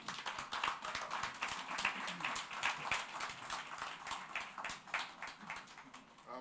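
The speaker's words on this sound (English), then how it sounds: "Please keep the applause going." Audience applause at an NGX RegCo EquipHer workshop, steady dense clapping from many hands sustained throughout, fairly loud and close with no speech over it.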